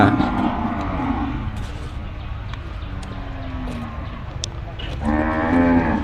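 Several cattle moo at a busy livestock market where hundreds of young cattle are up for sale, one loud low call at the start and another near the end, with someone speaking between them.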